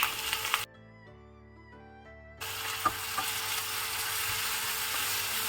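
Two finely chopped tomatoes drop into a hot pan for capsicum masala, setting off a steady hiss and sizzle that cuts out briefly during a short musical interlude, then resumes as constant frying noise.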